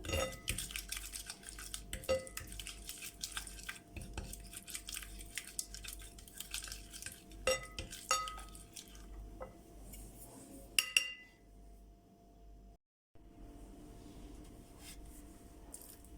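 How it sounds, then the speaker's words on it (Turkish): A spoon scrapes and clinks against a bowl while thick yogurt and spices are stirred, with soft squishing and a brief quiet pause near the end. "Karıştıralım yoğurdumuzla baharatlarımızı."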